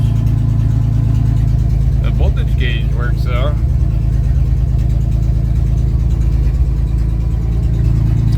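A Chevrolet S-10 pickup truck project engine runs steadily at idle, a loud continuous low drone throughout, with someone talking over it briefly.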